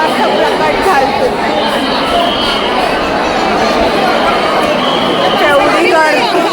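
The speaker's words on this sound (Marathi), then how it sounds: "एवढी गर्दी बाबा." A dense crowd of people at a temple, continuous loud babble of many overlapping voices close by.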